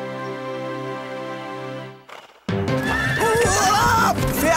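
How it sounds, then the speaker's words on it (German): A horse lets out a loud, close whinny that rises and wavers for about two seconds, following a sustained musical tone and a brief rustle. "Pferdchen!"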